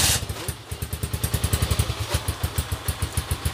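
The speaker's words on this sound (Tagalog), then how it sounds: "Tahimik pa rin yung makina niya." A motorcycle engine idles quietly and steadily, its low putter pulsing in an even rhythm, with no talking.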